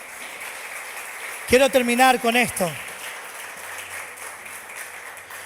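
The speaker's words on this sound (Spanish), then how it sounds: "¿Qué te parece si le damos un fuerte aplauso al Señor?" A church congregation applauds the Lord in a steady, moderately loud wash of clapping. Someone speaks briefly over it partway through, and the applause continues beneath and after his voice.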